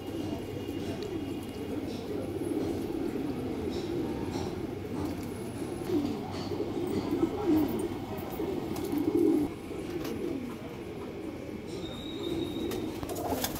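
A pigeon held in a hand coos in low, soft, repeated throaty calls over a steady background hum, fairly close, without speech.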